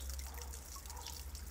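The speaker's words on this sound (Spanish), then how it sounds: "Solo la fuente se oía." A garden fountain trickles and drips faintly and steadily under a low background hum, with no voices.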